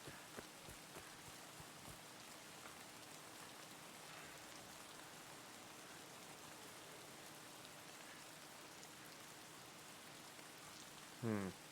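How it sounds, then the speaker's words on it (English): Rain falls at night in the Escape from Tarkov video game, a steady, soft, even hiss of rainfall running throughout, with a few faint taps early on and a brief louder knock near the end. "And it is raining."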